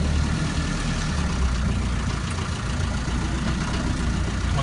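Land Rover Lightweight engine running steadily while the vehicle drives in reverse, a loud, constant low rumble with no breaks for the whole stretch.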